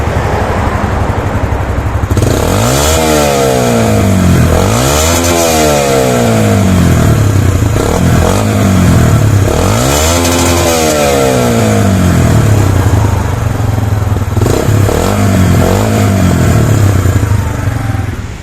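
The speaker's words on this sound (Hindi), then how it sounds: "तो ये बाइक की साउंड है आफ्टर स्पीड टेस्ट" A 2022 Yamaha YBR 125G motorcycle with a 125cc single-cylinder engine revs hard in loud repeated cycles, climbing and falling over a steady idle throb close to the microphone.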